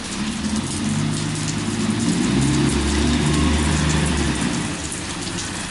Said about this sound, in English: Got the garbage truck coming, so if you hear that, that's the garbage truck.